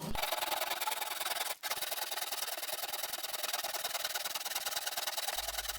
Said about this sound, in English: Use your tenon saw to cut the end off the strut.